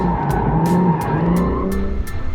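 A BMW M3 with carbon ceramic brakes driven hard on a performance-center track, its engine droning loudly and steadily from inside the cabin while tires squeal intermittently through quick side-to-side transitions.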